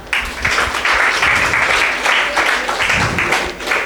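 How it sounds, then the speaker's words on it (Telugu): An audience at a Christmas gathering claps for prize winners, a loud sustained round of applause with uneven swells that runs throughout, a few voices faintly underneath. "వెనకాతల వాళ్ళని అభినందిస్తూ చప్పట్లు కొట్టండి"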